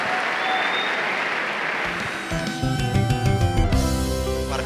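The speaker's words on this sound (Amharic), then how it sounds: "ፓናሊስቶቻችንን አወያዮቻችንን እስቲ ባካችሁ ከፍ ያለ ጭብጨባ አድርጉልኝ።" A live audience applauds the panelists at the close of a stage panel discussion, with dense steady clapping that carries on as music swells in beneath it.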